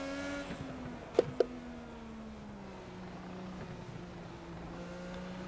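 An IndyCar lapping the Mid-Ohio road course, its engine a steady high whine that drops in pitch through a gear change or corner, heard from onboard at moderate loudness, with a couple of sharp knocks early on.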